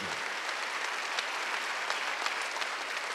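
A church congregation at a Wednesday worship service applauds, steady moderate clapping that fills the short stretch without pause.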